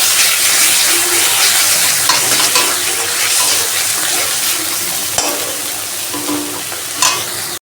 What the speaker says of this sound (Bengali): পেঁয়াজটা ভালো করে বাদামি করে ভেজে নেব। দিয়ে দেব পেঁয়াজ বাটা।